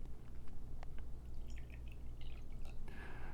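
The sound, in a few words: sake poured from small vase into cup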